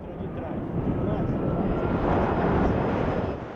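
Esquadrilha da Fumaça aerobatic team airplanes roar overhead in a continuous, loud, broadband engine drone that holds steady and then cuts off abruptly at the end.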